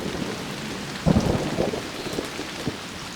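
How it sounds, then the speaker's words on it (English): A thunderstorm with steady heavy rain hissing throughout, a loud rumble of thunder breaking in about a third of the way through and rolling off, with a few fainter crackles later. "a big storm with thunder and lightning and rain was soon upon them"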